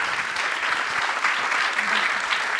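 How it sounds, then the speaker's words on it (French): Audience applause at an awards ceremony for creative-industry project winners, steady dense clapping from a crowd filling the whole stretch without breaks. "On peut les applaudir aussi."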